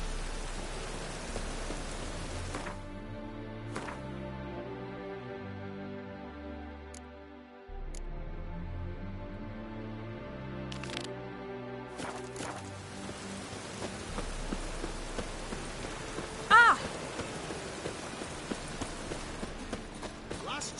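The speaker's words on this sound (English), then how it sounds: "I like rain." Steady rain pours in The Witcher 3 game world, a continuous hiss of drops on surfaces with horse hooves clopping, music and voices talking over it throughout.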